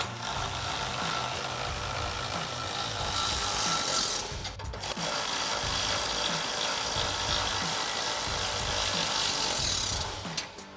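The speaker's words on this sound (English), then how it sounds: "then you grab your ratchet and 10mm socket and tighten them down" Ratchet with a 10mm socket tightening running board mounting nuts on a 2020-2024 Silverado 2500, a close, continuous series of rhythmic clicking strokes with a short pause midway, no talking.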